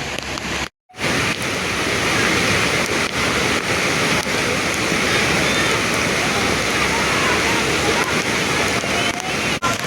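Bhaje waterfall near Malavli roars loudly and continuously, a dense rushing wash of water broken only by a brief dropout near the start.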